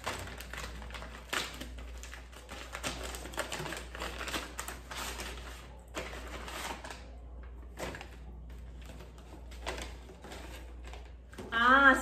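Crinkly rustling and tapping as a Natura gift bag package is opened, bursts of crackle and handling noise spread across the clip, fairly close and moderately loud.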